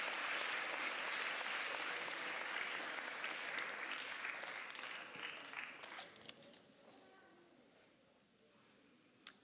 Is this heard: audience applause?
yes